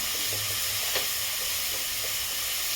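Finely chopped onions frying on a high flame for pav bhaji, a dense continuous hiss and crackle close by, with one faint scrape of stirring partway through.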